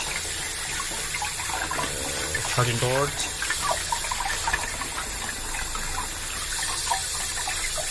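Running tap water gushes over a rugged smartphone being washed under a faucet, a steady splashing stream with a brief clatter, while a person speaks briefly nearby.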